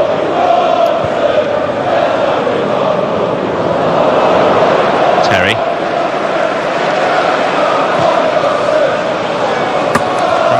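A football crowd at a Premier League match between Chelsea and Newcastle United chants about Bobby Robson, a broad, loud, sustained roar of many voices filling the stadium.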